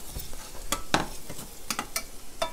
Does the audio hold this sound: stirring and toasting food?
yes